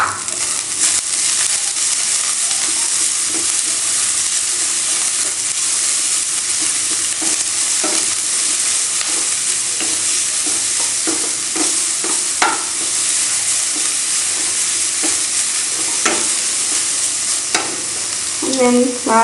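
Carrots and cabbage for kothu roti sizzle loudly in a hot pan, a steady broadband frying hiss broken by scraping stirs and clinks of the utensil, especially toward the end, with no talking.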